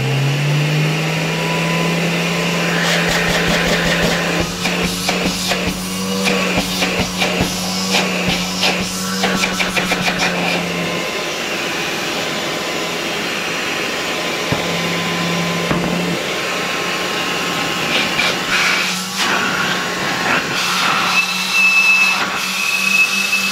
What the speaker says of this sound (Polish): I mogę teraz włączyć odkurzacz.